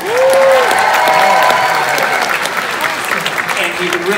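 A crowd at a Dumbo opening night fan event at the El Capitan Theatre applauds for Joseph Gatt, loud sustained clapping with some cheering, while a person talks over it.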